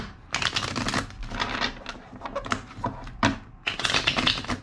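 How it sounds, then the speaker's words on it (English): Tarot cards are shuffled in a series of dense, crisp riffling bursts with short pauses between them, close and fairly loud, with no talk. "Two more shuffles."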